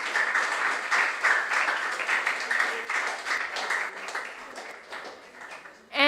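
An audience at a junior science and maths quiz regional final claps for contestants, a moderate rippling applause that gradually thins out, with a voice breaking in loudly at the very end.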